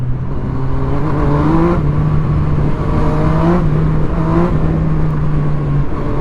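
Loud, close engine drone with repeated revving surges as cars accelerate along a street in Kadıköy, Istanbul, at night, continuous throughout.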